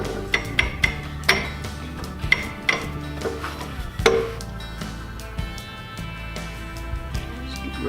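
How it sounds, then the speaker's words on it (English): A hammer taps a lathe center onto the end of a wood blank in a workshop, giving a series of sharp, irregular metallic knocks at close range with a ringing tail, with no talk over them. "What I do is I take a hammer, just tap it on, lock it down with this right here."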